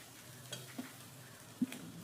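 Grated coconut frying in hot coconut oil, a faint steady sizzle with a few soft stirring scrapes and light clinks, quiet and close with no talking.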